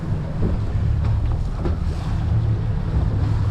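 A motorboat runs out on the open ocean in the Florida Keys off Key Largo, its steady low engine rumble mixed with heavy wind buffeting and water rushing past the hull.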